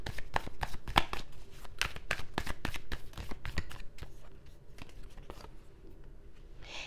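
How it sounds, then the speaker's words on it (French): Tarot cards are shuffled and drawn, a close run of crisp, rapid riffling flicks and slaps that thins out toward the end. "Je vais juste tirer une autre carte, cette fois-ci à l'endroit"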